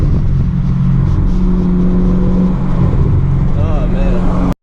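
A 2017 Chevrolet Camaro SS accelerating hard onto a freeway: a loud, close engine roar with rising pitch that builds over a few seconds before cutting off abruptly.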